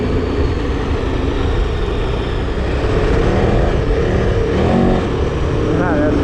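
A KTM 1290 Super Adventure R motorcycle accelerates hard while being short shifted, its engine a steady loud drone with wind rush and rising pitch sweeps near the end, recorded from the rider's position.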